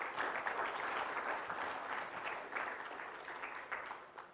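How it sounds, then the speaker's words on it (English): Steady applause from a workshop audience, a dense wash of clapping that is fairly faint and distant, holding throughout with slight swells and no voices. "a round of applause."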